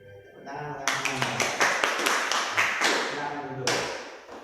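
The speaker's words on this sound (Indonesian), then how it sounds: "Tepuk tangan untuk semuanya." Classroom applause from a group of students, a burst of dense clapping that rises after a moment, eases off, then swells again, with voices mixed in underneath.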